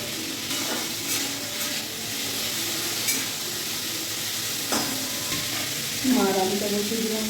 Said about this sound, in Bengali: আমি এবার আলু ভাজা করবো